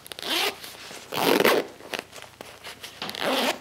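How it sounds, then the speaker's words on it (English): Zippers on a Ribz front pack being pulled open in three quick, loud rasping strokes close by, separated by short pauses and small clicks. "But listen to the zippers."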